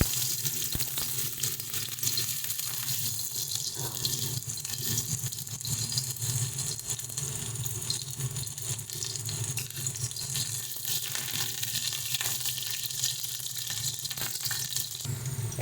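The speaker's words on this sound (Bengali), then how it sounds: "এবার প্রথমে আমরা পেঁয়াজ ফোড়ন দিয়ে দিচ্ছি" Sliced onion hits hot oil for tempering in a home kitchen pan, giving a steady, dense sizzle and hiss that runs on without a break, fairly soft and close.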